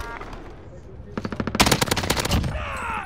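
Rapid automatic gunfire in Call of Duty: Modern Warfare rattles out in a dense, loud burst of closely spaced shots, followed by further crackling fire, with a player's voice faintly present.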